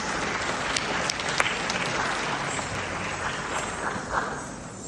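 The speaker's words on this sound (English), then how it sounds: "For you, a round of applause from this wonderful audience." A large audience at a dance studio showcase claps loudly and continuously. The thick wash of many hands stays steady throughout, with a few sharper claps standing out near the listener.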